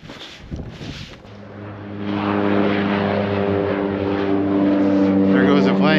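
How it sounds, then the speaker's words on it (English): A propeller airplane climbs away after leaving the airport and passes overhead above a small reservoir. It is a steady, droning engine hum that swells after a couple of seconds and stays loud, with faint voices underneath. "There goes a plane."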